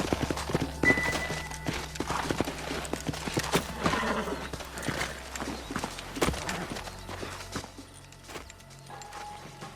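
Horse hooves clip-clop steadily with a whinny or two, a busy outdoor scene in the video game Red Dead Redemption with thuds and light background noise around them.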